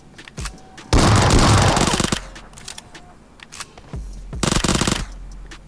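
PUBG Mobile gunfire heard as two loud bursts of rapid automatic shots, the first longer and the second shorter, separated by a quieter gap with faint game sounds.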